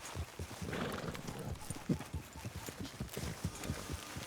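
Horse hooves clip-clop in a steady, fairly quiet rhythm in the video game Red Dead Redemption 2, with a brief snort or whinny partway through and no talking.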